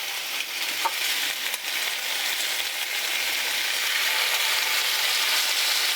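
Chicken fillets for teriyaki sizzle in a hot pan with no oil, a steady, close frying hiss that runs unbroken and fairly loud with no talking.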